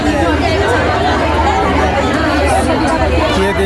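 A large crowd of workers chatters in a steady, dense babble at a district labour department office, many voices overlapping continuously with no single speaker standing out.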